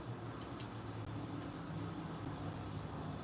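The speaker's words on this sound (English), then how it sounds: "Cars driving by on the outside of the building." Cars pass outside a building on a wet day, heard as a faint, steady low rumble of traffic through the walls.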